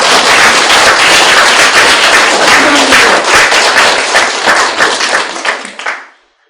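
Audience applause at a Buddhist Diamond Sutra lecture, a dense, loud burst of many hands clapping that holds steady, then thins and fades out near the end.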